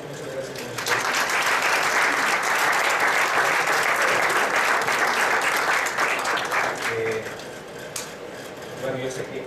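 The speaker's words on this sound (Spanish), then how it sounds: "Bueno, muy bien, pues les damos un fuerte aplauso" An audience at a general session on interculturality bursts into sustained applause, dense and even for several seconds before tapering off, with a voice speaking briefly near the end.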